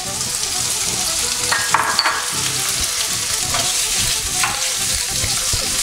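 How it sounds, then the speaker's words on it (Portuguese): Bacon fries in a pan with a loud, steady sizzle, and occasional stirring scrapes and light clinks sound over it. The frying is close and continuous, with no voices. "Vamos começar com o bacon, que é importante ele, porque ele tem que dar aquela secadinha e perder a gordura"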